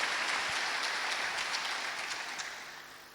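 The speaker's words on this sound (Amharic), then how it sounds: "ለአክርማቴክ ሶሉሽን እንዴ በደንብ አድርጋችሁ አጨብጭቡልኝ።" An audience applauding a contestant team at a business competition event, giving a dense, continuous burst of clapping that slowly fades over a few seconds, with no talk.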